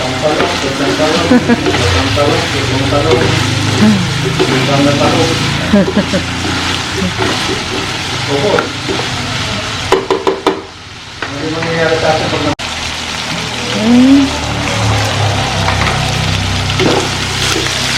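Eggplant fries in a pan with loud continuous sizzling and occasional stirring scrapes, while people talk over it throughout.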